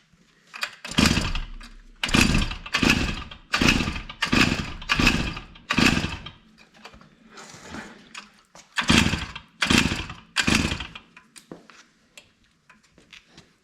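A two-stroke engine on a Schwinn bicycle runs with the choke on in repeated rough, buzzing bursts, about ten revving pulls with short gaps between them, loud and close with no talking.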